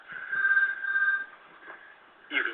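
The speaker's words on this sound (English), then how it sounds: "apologize for the phone ringing as well in the background." Telephone ringing in the background during a webinar on PLA technology, a steady electronic ring tone held for over a second, then a fainter tail and a brief burst at the end, moderately loud, with no one speaking.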